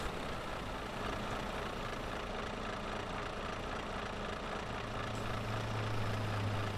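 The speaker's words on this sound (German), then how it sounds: "Habt ihr das gerade gehört, wie der LKW vorbei?" A truck engine rumbles in the Euro Truck Simulator 2 video game. The low, steady drone of noise holds constant throughout, with no distinct pass-by swell and no talk.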